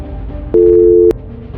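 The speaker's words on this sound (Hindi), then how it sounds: "तब गुल्ली बाबा पर कॉल करता है तो बाबा का फोन स्विच ऑफ होता" A phone line gives a single flat electronic tone of about half a second for a switched-off number, clear and close over a low background murmur.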